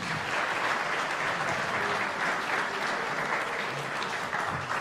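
Audience applause at a Kashubian recitation contest, a dense, even wash of many hands clapping continuously throughout, sounding like a full hall.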